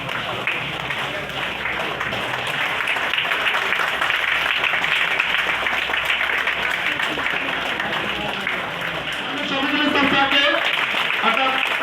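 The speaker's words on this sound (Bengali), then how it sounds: "আমি সকলকে অনুরোধ করবো করতালি অব্যাহত রাখার জন্য" A concert audience keeps up sustained applause, a thick, even clatter of many hands, with an amplified voice talking over the crowd throughout.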